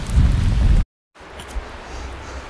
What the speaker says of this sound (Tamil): மழை பெருசாக வருது